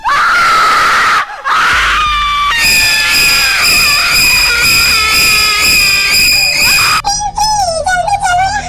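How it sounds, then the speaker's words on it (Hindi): A cartoon girl screams loudly in horror inside a haunted house, a long sustained shrill wail that breaks off briefly and then resumes, ending in wavering cries. "ये देख के पिंकी जोर जोर से चिल्लाने लगती है।"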